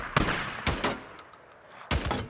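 Three sharp, loud gunshots ring out from the game Days Gone on PS5, spaced unevenly with short echoing tails and faint background clicks between them.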